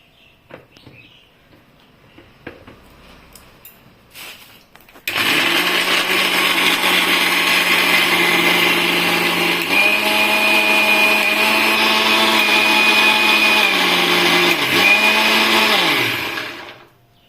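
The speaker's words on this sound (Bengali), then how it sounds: "অল্প জল দিয়ে আবার স্মুথভাবে পেস্টটা করব" A kitchen blender grinds a handful of cashews with a little water into a smooth paste. After a few quiet seconds it starts abruptly and whirs loudly and steadily, its pitch shifting slightly a couple of times before it winds down and stops.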